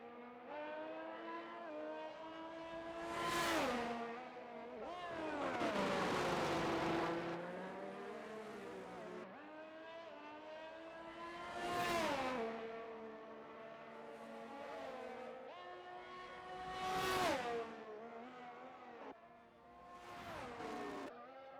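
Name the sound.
Alpine and Williams race cars racing, from a video game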